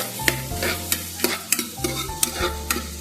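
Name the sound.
finely chopped onion lightly shallow frying in hot oil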